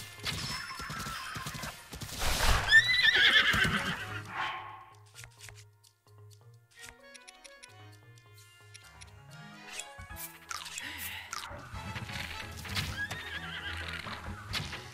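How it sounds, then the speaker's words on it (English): Horses in a video game whinny loudly and at length, then their hooves clip-clop in a quick rhythm that comes and goes, with a second burst of neighing near the end. "there's guys on horses"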